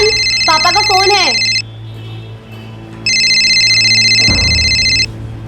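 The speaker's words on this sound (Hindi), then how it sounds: "जयन, पापा का फोन है।" A phone rings indoors in two bursts of bright, chirping electronic ringtone. A voice and other sounds fall in the gap between the rings, and a low background hum runs throughout.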